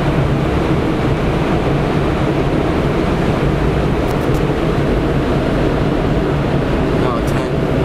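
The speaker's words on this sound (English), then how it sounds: "There's like 11 of these blowers." About ten powerful car wash air blowers roar steadily around a car driving through a new car wash, a dense, loud, unbroken rushing whoosh that never lets up.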